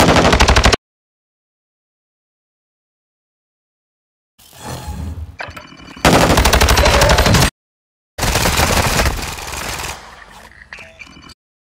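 Bursts of rapid gunfire from a Call of Duty war game, loud and close, in three dense volleys separated by silence, with rattling automatic fire and scattered impacts.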